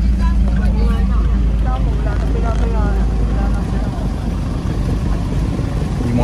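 Motorboat engines drone loudly and steadily across Laguna de Bay during a Christ the King procession, with wind and water noise, while people talk nearby throughout.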